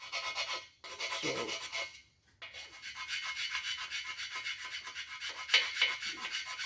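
Steady back-and-forth rasping as the edges of bearing housing caps on a Mopar 360 Magnum engine block are scrubbed, close and continuous with one short pause partway through.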